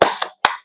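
Rhythmic 'tepuk semangat' clapping chant during a classroom peer-teaching session: sharp separate claps in a short pattern, close and fairly loud, with no voices.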